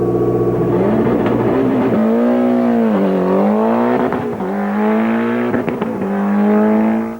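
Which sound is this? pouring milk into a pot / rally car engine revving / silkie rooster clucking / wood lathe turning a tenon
rally car engine revving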